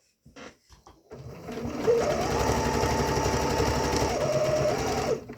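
A sewing machine runs steadily for several seconds, stitching fabric for homemade underwear, loud and close, after a few brief knocks and taps at the start.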